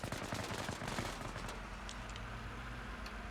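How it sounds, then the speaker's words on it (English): Rapid automatic gunfire in a video game as a player shoots out a car's tires, a dense close burst for the first second and a half that thins into scattered shots and trailing echo. "shoot pull his him out. tires out. Shoot his tires out."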